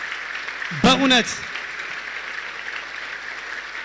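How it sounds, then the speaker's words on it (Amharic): An audience at a farewell service claps in tribute, a steady dense wash of applause running throughout, while one voice briefly speaks over it near the start. "በደንብ አጨብጭቡላት"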